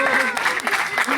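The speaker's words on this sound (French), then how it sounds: "tout le monde va te donner un tonnerre d'applaudissements" Brief burst of applause from an onstage magic-show audience after a young girl magician's card trick, with voices talking over the clapping throughout.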